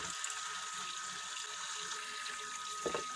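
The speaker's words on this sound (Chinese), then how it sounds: "首先呢，打开水龙头" Water runs from a kitchen tap into a sink full of bowls and plates, a faint, steady rushing flow with a small splash near the end.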